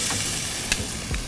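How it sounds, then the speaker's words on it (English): Strip steaks are laid onto a hot grill pan, giving a brief, close, hissing sizzle with a faint crackle. "that grill pan is still sizzling"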